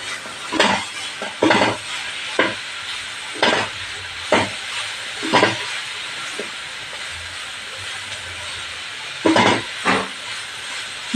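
A cutlet mixture with coriander powder and chaat masala is stirred in a bowl, giving a run of separate scraping and mixing strokes over a steady background hiss, with longer gaps between some of them.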